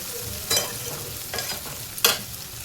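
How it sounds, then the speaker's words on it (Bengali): Spice paste for mutton curry stir-fried in oil, a close steady sizzle with three distinct spatula scrapes at irregular intervals. "সামান্য একটু জল দিয়ে ভালো করে মশলাটাকে কষাবো"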